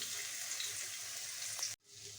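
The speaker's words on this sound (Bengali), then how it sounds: "সেই তেলটার মধ্যেই আমি প্রথমে রসুন যে গ্রেট করে নিয়েছিলাম সেগুলো দিয়ে নিচ্ছি" Grated garlic sizzling in hot oil left from frying paneer for chilli paneer, a steady loud crackling hiss that cuts off abruptly near the end, then resumes more faintly.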